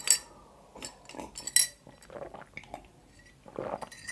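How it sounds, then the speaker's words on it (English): Glass and metal cutlery clink lightly while someone drinks, giving scattered soft taps and chinks with quiet gaps between, close and faint, no talk. "Before I answer you, Grant, I'm just gonna drink a bit"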